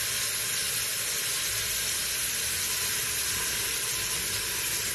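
Black-eyed peas sautéing in an Instant Pot make a dense, steady sizzle and hiss that carries on without a break, loud and close with no talking.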